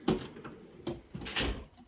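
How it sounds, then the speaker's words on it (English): A full-length drawer on a Snap-on 54-inch XL toolbox slides open in a garage, with a few close, short sliding and clunking bursts. "There's your third full-length drawer."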